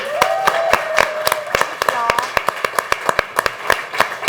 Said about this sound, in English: Round of applause for Alex, everybody